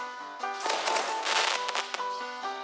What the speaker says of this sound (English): Got a few different grenade types to switch between as well.